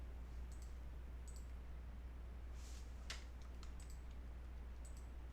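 Small, faint clicks of a computer mouse or keyboard at a desk, a few scattered taps over a steady low hum, with no talking.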